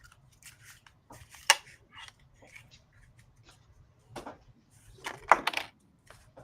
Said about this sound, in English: I could come up here and show I'm shuffling.